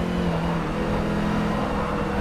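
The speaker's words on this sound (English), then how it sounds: "for this video I thought I'd just drive Nick Hamilton's Audi because it is the same year" Audi BTCC race car from Forza Motorsport 6 at Brands Hatch, its engine holding a steady loud droning whine at high revs, close and continuous, with no talk.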